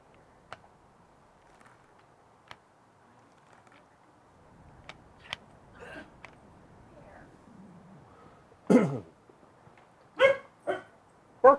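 Ein the dog whimpers in soft, thin cries and then lets out several sharp, close barks, spaced apart over a quiet background with faint ticking.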